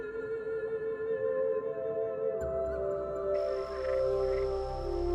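Cuban tree frogs call in a humid night chorus in the Bahamas, steady trilling croaks layered with a higher tone that rises partway through, moderately near.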